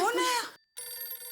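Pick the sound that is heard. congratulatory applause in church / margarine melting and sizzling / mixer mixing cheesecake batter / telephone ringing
telephone ringing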